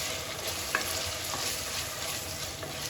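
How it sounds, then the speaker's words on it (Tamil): Tomatoes sautéing in a pan for Indian-style masala macaroni, a steady close sizzle and frying hiss with light scraping as they are stirred, no voices. "தக்காளியும் போட்டு நல்லா வதக்கிக்குவோங்க."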